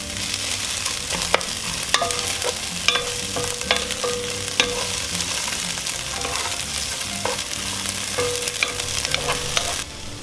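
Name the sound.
onions sautéing in a pot for cowboy stew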